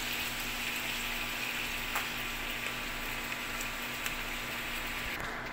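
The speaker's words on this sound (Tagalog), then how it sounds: "Alright, gisa-gisa lang tayo ng konti" Tomato sauce sautés in a pot for beef caldereta, giving a steady close sizzle and bubbling hiss with occasional small pops and clinks, no voices.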